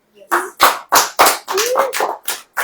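Members of a church congregation clap in a rough, loud rhythm, about eight distinct bursts of hands close by, with a voice sounding between some of the claps.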